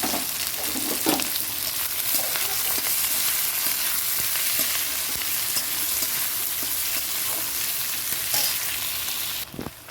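Sliced onions fried in a pan with oil and bay leaf for a chicken kosha, a loud steady sizzle with occasional stirring scrapes throughout, no voices.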